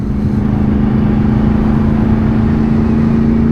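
Yamaha YZF-R1 1000cc superbike engine while riding, a loud steady droning hum with a constant tone, heard close and alone without talk.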